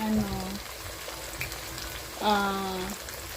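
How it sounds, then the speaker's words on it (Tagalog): Flour-coated salmon belly fries with a steady hissing sizzle, punctuated by a couple of utensil clinks and brief tonal squeaks, close by and moderately quiet. "magpiprito ako ng salmon belly"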